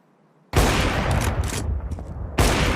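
Scoped rifle fire in a Counter-Strike 2 match: a loud, close burst of gunfire starts abruptly after a brief quiet and keeps going with a dense run of shots, then a fresh sharp blast near the end.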